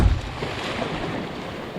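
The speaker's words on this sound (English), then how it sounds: "I can hear the falls right around the corner." Steady broadband rush of a waterfall on the Lurch River in the wilderness, a continuous roar heard from around a bend, with a brief low thump at the start and no talking.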